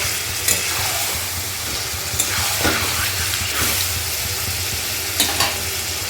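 Marinated meat fries in a pot for biryani, with a continuous loud sizzle and occasional scraping stirs heard up close. No one speaks.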